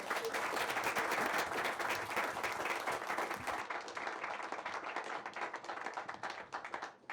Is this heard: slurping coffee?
no